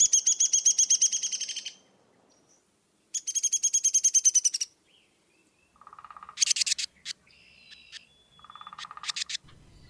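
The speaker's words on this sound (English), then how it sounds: "And this is the Downy Woodpecker." A played recording of Downy Woodpecker calls: bursts of rapid, high-pitched chirping notes repeat in separate runs, with shorter sharp calls and whinny-like phrases later, clear and alone with no talk.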